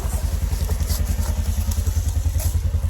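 A Kawasaki Mojave 110 ATV engine turns over close by, its low chugging pulses repeating in a fast, even rhythm for a few seconds with a faint rattle and no speech.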